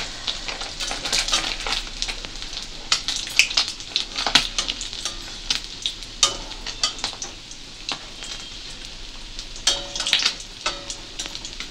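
Three pabda fish frying in a pan for a home-cooked meal, a steady oil sizzle with sharp irregular crackles and pops, close and clear with no talking.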